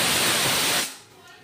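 A pressure cooker on the stove lets out a loud, steady steam hiss that cuts off abruptly after under a second, leaving faint room noise.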